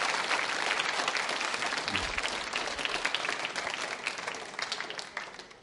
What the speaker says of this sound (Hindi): इस संकल्प के लिए बजाइए तालियां एक बार जोरों से